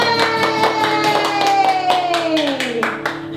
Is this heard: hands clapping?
yes